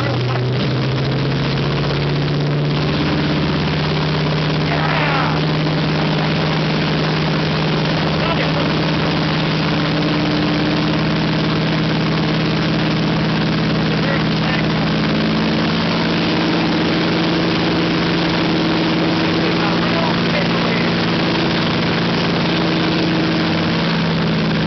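A Pratt & Whitney R-4360 radial aircraft engine runs steadily at a low, even drone, heard from nearby with a constant rumbling hum and no talk over it.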